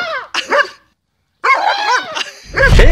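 A dog barks in loud, close bursts with whimpering yips between them, broken by a short silence before the yelping resumes more intensely.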